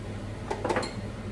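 A spoon stirring a teaspoon of sugar into Thai red curry with prawns and vegetables in a pot gives a few soft, quick clinks and scrapes, close and quiet, with no talking.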